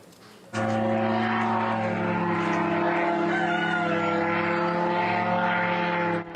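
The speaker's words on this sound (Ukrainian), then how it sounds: "На фоні кукурікають півні та літають дрони." A loud, continuous droning hum of flying drones over a village fills the air, steady and unbroken after an abrupt start.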